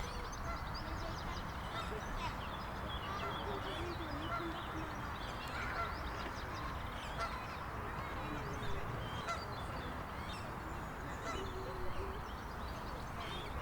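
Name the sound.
greylag or pink-footed goose honking in a park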